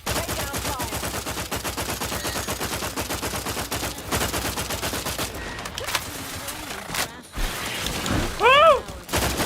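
Sustained rapid automatic gunfire in The Outer Worlds, a close steady stream of shots running for several seconds, then scattered heavier impacts and a brief vocal exclamation near the end.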